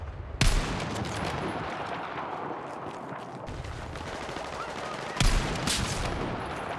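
Sniper rifle fire from an M2010 ESR in Battlefield 6: two sharp, loud shots about five seconds apart, each a broadband crack over a steady bed of battlefield ambience and distant gunfire.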